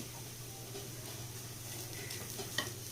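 Spiced beef filling sautés in a pan for a beef roll, a faint steady sizzle with soft stirring scrapes and a steady low hum beneath, one brief clink near the end.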